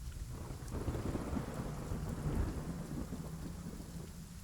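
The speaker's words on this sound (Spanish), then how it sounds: "Otra vez está lloviendo." Steady rain falls with a low, rolling rumble of thunder beneath it, fairly quiet and continuous throughout with no voices.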